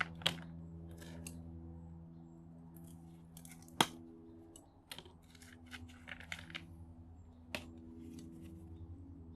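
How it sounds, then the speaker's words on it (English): Cutters snip tape off scrap wires with brass ends, giving a few sharp, close clicks and snaps spread unevenly over a quiet background hum, with no talking. "Cut this piece of tape off there."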